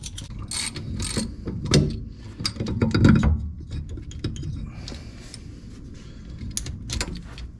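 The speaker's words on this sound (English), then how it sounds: "Passenger side axle is unbolted." A ratchet clicks in uneven runs while the passenger side axle is unbolted on a BMW E36, with close metallic ticks and a few heavier clanks in a quiet garage.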